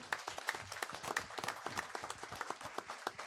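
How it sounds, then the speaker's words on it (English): A room of people at a school board meeting gives a round of applause, dense and sustained clapping that stays steady and fairly near for the whole stretch. "could you just give them a round of applause real quick?"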